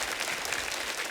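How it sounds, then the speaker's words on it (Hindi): A studio audience at a television comedy show gives a brief burst of dense, steady applause, even and fairly close, with no voices over it. "आदित्य के लिए जोरदार तालियां हो जाएं।"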